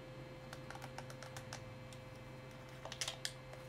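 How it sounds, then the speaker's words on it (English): Computer keyboard keys are pressed in quick, irregular bursts of soft clicks, with a few louder taps near the end, over a low steady hum. "Just going to press all the keys just to see if anything gets out of this."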